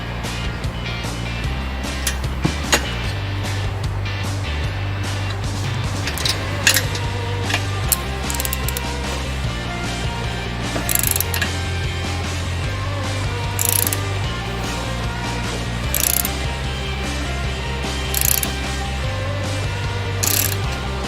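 A rivet nut is cranked tight on a Jeep Wrangler, with repeated bursts of ratcheting clicks coming in regular cycles over a low, steady mechanical hum, close up and with no talking.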